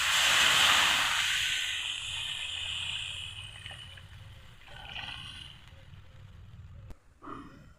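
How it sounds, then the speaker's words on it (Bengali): Water poured into hot mustard and poppy-seed spice masala for a pabda fish curry, a loud hissing burst of steam up close that fades into a softer bubbling simmer with faint scraping. "এখন ঝোলের জন্য জল দিয়ে দেবো।"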